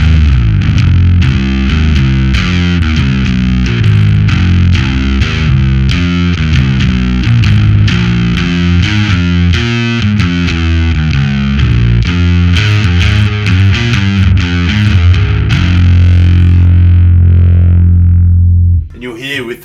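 Bass guitar played through an Audile TOAD pedal with the gain set high, giving a loud, thick distorted tone with a steady run of picked notes that keeps its low end, ending in a brief pause.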